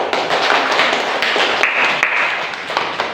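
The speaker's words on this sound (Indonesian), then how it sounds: "Kita kasih tepuk tangan dulu." A school class claps hands together, a dense burst of sharp overlapping claps up close that continues steadily for a few seconds, with a few louder single slaps standing out.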